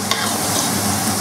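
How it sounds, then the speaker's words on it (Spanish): Potatoes fry in a pan while being stirred, giving a dense, steady sizzle with a brief scrape of the utensil near the start, close and loud throughout with no talk. "ya estoy friendo las patatas"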